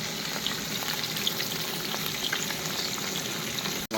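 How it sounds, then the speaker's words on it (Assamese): Rohu fish fries in a pan with chopped onion and green chilli for an Assamese otenga fish dish, a steady dense sizzle holding level throughout and cutting off abruptly at the very end. "এতিয়া ফ্ৰাই কৰি আছোঁ মই"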